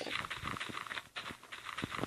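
Rain in the Minecraft video game, a steady broadband patter of falling drops that runs continuously with a brief dip in the middle, fairly loud and with no talk over it.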